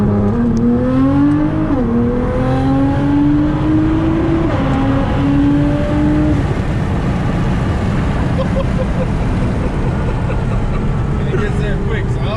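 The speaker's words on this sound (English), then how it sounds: "literally I mash the gas, and when I'm ready, I just click cancel on cruise control, and we're off to the races" Nissan R35 GTR accelerating hard out of cruise, engine note rising sharply in pitch through the rev range before broadening into a loud continuous roar with wind and road noise, heard from inside the car.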